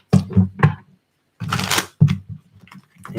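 Tarot cards are shuffled during a daily love and finance reading: a short burst of papery riffling between stretches of talk, close and moderately loud.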